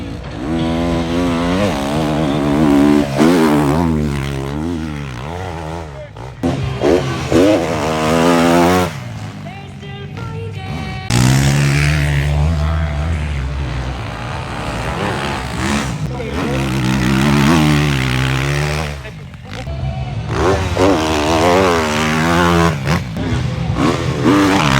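Enduro motorcycle engines rev hard and rise and fall in pitch at the Enduropale du Touquet beach race, loud and close, with repeated throttle surges and brief dips, and people talk over the noise.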